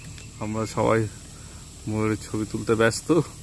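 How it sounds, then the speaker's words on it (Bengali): Crickets chirp in the forest around Lataguri's jungle villages, a faint steady trill running beneath people talking close by. "এই যে ঝিঝি পোকা ডাকছে এখন।"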